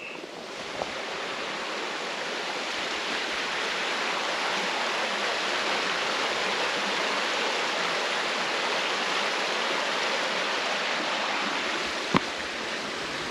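Yellow Dog River near a bridge outside Marquette, Michigan, flowing as a steady, broad rush of water that stays even and continuous, with one faint knock near the end.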